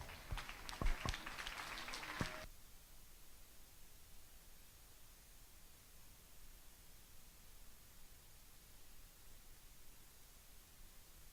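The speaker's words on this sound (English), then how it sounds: "Give him a round of applause." Audience at a market goat show gives a short burst of applause with scattered claps, lasting about two seconds before dropping to a steady low hiss.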